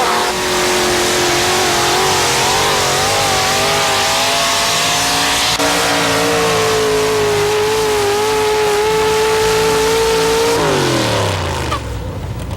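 A brand new Chevrolet truck at a 1987 TNT drag race in Fishersville revs hard and loud, its engine note climbing through gears in steady sweeps before dropping off sharply near the end, with no talk over it.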